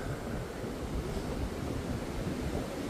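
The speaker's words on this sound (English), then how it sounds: "It's windy" Steady, strong wind from Storm Isha buffets and roars without a break at a roadside camp, close and noisy, with no voices.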